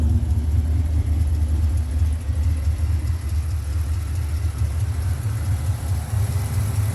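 A 1967 Pontiac GTO convertible restomod with an LS3 V8 idles through an all-stainless exhaust fitted with a small resonator, giving a steady, loud, close low rumble that holds evenly throughout with no talking.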